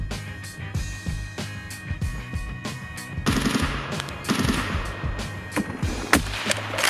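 Gunfire in the Escape From Tarkov video game during a sniper fight: rapid bursts of sharp shots crack repeatedly over several seconds, some close and loud, others more distant, against a busy ambient background with no talk.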